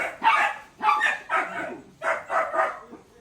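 Small wiener dogs bark in short, loud bursts in Ubud, Bali, chasing off monkeys. Roughly six sharp barks come close together at a quick, uneven pace, with no talk over them.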